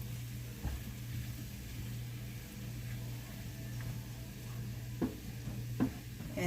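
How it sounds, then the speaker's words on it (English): Chicken and mushrooms cook down in a pan with margarine, giving a low steady sizzle under a constant hum, with occasional soft utensil taps from stirring. "Okay, we're just going to mix that up in there. And let these cook down."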